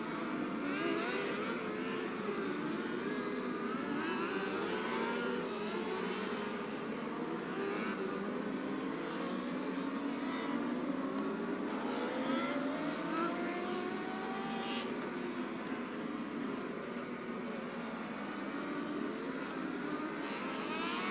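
Micro race cars at a speedway on the 4th of July, their engines droning and whining steadily at a distance for the whole stretch, pitch rising and falling as they circle the track, with no talk over it.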